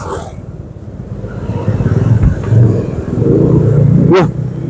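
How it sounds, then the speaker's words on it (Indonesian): A motorcycle with a racing exhaust rumbles close by in a low, throbbing drone that swells and fades over several seconds, beneath an ongoing background of road noise. "Di belakang ada motor racing kayaknya, ini knalpotnya racing guys."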